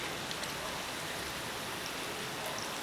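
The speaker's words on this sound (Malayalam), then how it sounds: "ഓരോ ഉരുളക്കിഴങ്ങ് ബോൾസും ഈ മാവിൽ മുക്കിയിട്ട് എണ്ണയിൽ ഇട്ട് കൊടുക്കാം" Batter-coated potato masala bonda balls frying in hot oil, a dense, steady hiss of bubbling oil with no breaks.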